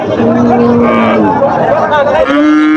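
Cattle moo at a busy livestock market, two long, loud, drawn-out lows close by, heard over a steady hubbub of crowd chatter.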